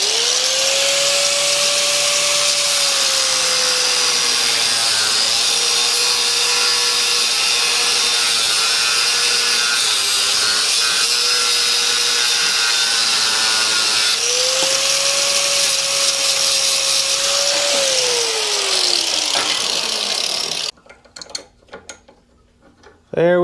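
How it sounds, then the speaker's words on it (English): A power tool cuts through overly long bolts during work on a Grand Cherokee, giving a loud, steady mechanical whine that sags in pitch under load, runs for about twenty seconds in two long passes, then stops abruptly. "They only had very long bolts. That's okay, we're just gonna chop off a little bit."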